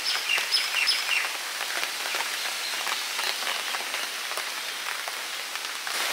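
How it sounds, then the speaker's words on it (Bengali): Heavy rain from Cyclone Remal pours steadily in a dense, even hiss of drops on surfaces, with a few faint bird chirps early on and no voices. "ভালোই বৃষ্টি শুধু যাবে।"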